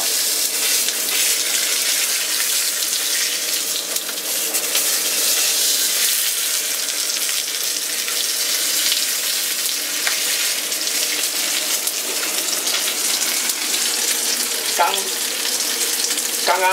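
Tuna-like fish fillet, its surface blotted dry, pan-frying in hot oil over high heat, a loud, dense, continuous close sizzle with a few faint clinks near the end.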